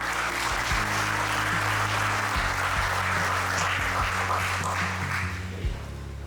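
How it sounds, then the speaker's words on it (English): Audience applause at a university matriculation day, sustained and even clapping from a large crowd over a low background hum, continuing at the same level to the end. "Please clap for them."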